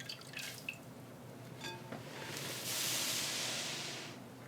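Water dripping and trickling from wet hand-knitted fabric squeezed out by hand during wet blocking, close and soft, with a brief louder splashing run near the end.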